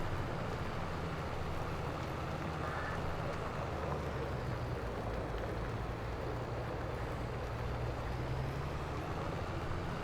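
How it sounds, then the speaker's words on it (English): A 430 to 438 horsepower T8 tractor drives across a flat field, its engine a steady loud rumble with wind noise, the pitch dipping and rising as the transmission hunts between gears. No one speaks. "Sounds like my T8 is trying to figure out what gear it wants as we're driving."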